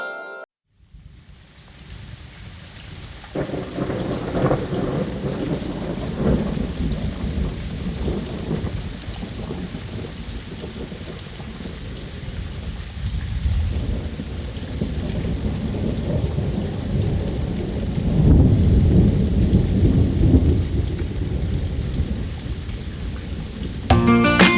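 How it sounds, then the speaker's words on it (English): Steady heavy rain pours throughout, with deep rolling thunder rumbling beneath and swelling louder toward the end. "It's raining, it's pouring"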